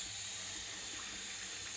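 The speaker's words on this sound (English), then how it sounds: "Please join me at the water tank." Water pours from the tap of a water tank in a steady, continuous hiss-like rush, close and moderately quiet, with no talking.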